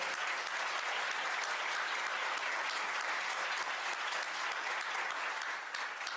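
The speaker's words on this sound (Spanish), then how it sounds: "le pido que le den un fuerte aplauso" Sustained applause from an audience at a legal conference, a dense, even clatter of many hands clapping continuously at moderate distance, fading slightly near the end.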